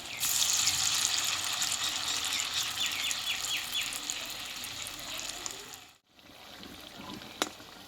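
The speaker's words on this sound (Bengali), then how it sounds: "বাকি টিফিনগুলো বন্ধুরা আমি এইভাবে ব্যাটারটা লাগিয়ে ভেজে নেব" Battered raw potato and flour snacks deep-frying in oil on low heat give a steady crackling sizzle, with a brief dip in the bubbling near the end and a single sharp tap.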